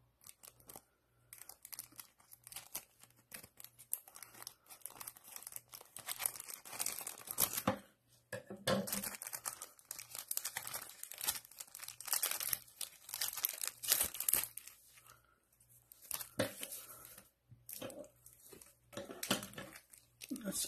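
Pokemon 25th Anniversary cereal card packs are cut open with scissors, giving close, quiet bursts of plastic wrapper crinkling and snipping in irregular clusters with brief pauses, while a person talks intermittently.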